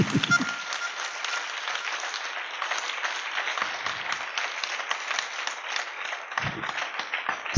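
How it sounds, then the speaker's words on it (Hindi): An audience applauding, a dense, steady patter of many hands clapping together at moderate loudness, holding evenly for several seconds. "चलो इनके लिए तो ताली बजाओ"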